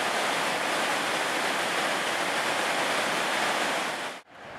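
Water surges from the dam at Rock Island State Park in a loud, steady roaring rush that suddenly dips near the end, with no talking.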